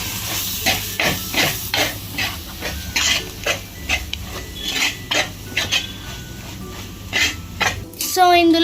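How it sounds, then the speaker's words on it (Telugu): Garam masala being stirred into a curry in a pan, with repeated scraping and clinking of a spoon against metal in an uneven rhythm, faint sizzling underneath, close and fairly loud, no voices. "గరం మసాలా దీన్ని మిక్స్ చేసుకోవాలి."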